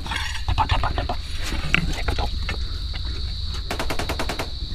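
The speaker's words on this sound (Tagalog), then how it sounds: "Ang lakas ng mga putok doon sa may kabilang bundok, tol." Distant gunshots or firecrackers from across a mountain pop repeatedly against a steady background hum, ending in a quick rattling string of bangs.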